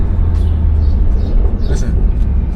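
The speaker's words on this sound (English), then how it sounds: "listen to that turbo" A stage 2 BMW 340i drives with a loud, steady low engine rumble heard from inside the cabin, and a faint high whistle from the turbo briefly rises above it.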